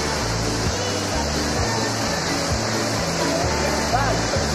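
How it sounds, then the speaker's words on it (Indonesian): A fast-flowing river rushes in a continuous loud, dense wash at a stream fishing spot where the current must be waded across, steady and close with no pauses. "Kita harus nyebrangin sungai dulu,"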